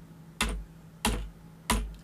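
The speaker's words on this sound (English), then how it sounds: "you can see here I'm hitting X on the keyboard" Three separate key presses on a computer keyboard, the X key struck repeatedly in a digital painting program, each a sharp, close click spaced roughly half a second apart against a quiet background.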